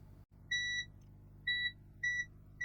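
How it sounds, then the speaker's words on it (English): A multimeter gives several short, bright electronic beeps during continuity checks on a chewed-up cable of a faulty Switch controller, repeated in a steady on-off pattern over a faint background hum. "Multimeter and continuity. That's all fine."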